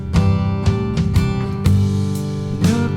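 A full song mix run through Logic Pro's Hyped Mix output preset, with widening and limiting, comes across dense and loud, with sustained chords and a few sharp accents through a short excerpt.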